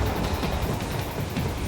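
A moving train in the video game Metal Gear Rising: Revengeance rumbles loudly and steadily, a dense continuous roar with faint rhythmic rattling and no speech.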